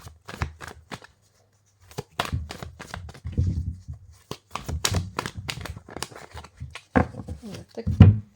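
Tarot prediction cards shuffled close by in quick riffling bursts with short pauses between, a soft crinkly texture, alone without talk.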